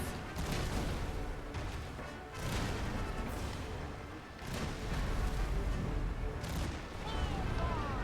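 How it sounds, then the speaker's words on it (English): Cannons firing in the Caribbean stage of the video game Kingdom Hearts 3, a series of heavy booming blasts at irregular intervals over a continuous rumbling battle din. "Cannons."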